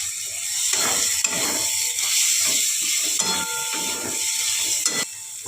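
Shrimp added to a hot pan for Bengali mocha chingri ghonto (banana blossom with shrimp), giving a steady loud hiss and sizzle with intermittent clinks and scraping of stirring throughout, and no talk.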